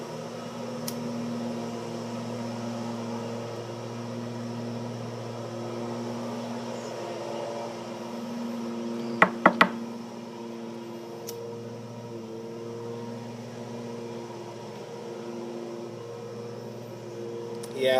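A lawnmower drones steadily in the background for the whole stretch, a constant mechanical hum with no voices, broken only by a few faint clicks near the middle.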